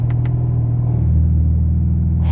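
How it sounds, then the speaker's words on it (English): A Porsche 911 GT2 RS exhaust gives a loud, deep, steady rumble at close range, with a couple of brief sharp clicks at the start and a rising hiss at the end. "hope you can hear the exhaust"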